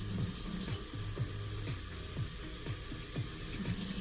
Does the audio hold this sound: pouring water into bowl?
yes